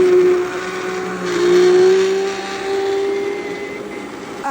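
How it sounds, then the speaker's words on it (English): Blender whirring through roasted tomato basil soup, a loud steady motor whine that rises and falls slightly in pitch as it churns, close up with no talking. "now I'm gonna use a blender to blend it up"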